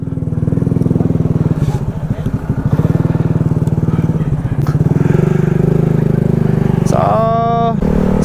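A steady engine drone from a running vehicle, loud and close, runs through with a rising whine near the end, while people talk over it; a Honda Click motorcycle with a rider who cannot get it to start.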